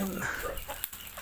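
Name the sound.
chickens clucking in backyard poultry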